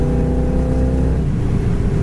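A 1970 Chevy Chevelle SS V8 engine revving hard under acceleration at about 80 mph, loud and close with a steady droning roar and rising harmonic whine, no voices.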